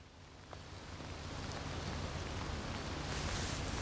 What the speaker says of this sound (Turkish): Aha yağmur çoğaldı.